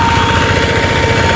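An 8HP diesel engine drives an FFC 23 flour disc mill, a loud, close, continuous low throbbing drone with a steady mechanical whine layered over it and no talk.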